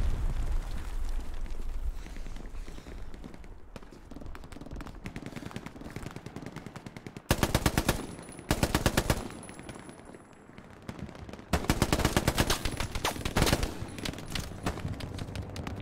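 An MG22 machine gun in Hell Let Loose lets off long rapid-fire bursts, loud and close, broken by short pauses and layered over steady background gunfire across the scene.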